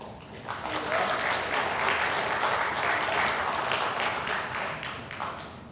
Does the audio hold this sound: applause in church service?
yes